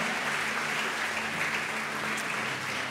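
Dense, sustained applause from a church congregation at Lagoinha Orlando Church, an even wash of many hands clapping throughout, steady and moderately distant with no talk.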